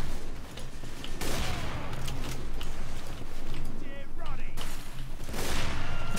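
Gunfire in a video game sniper match with an AWP and an SMG: dense, noisy shooting and explosive bursts run throughout, with a few louder cracks that stand out.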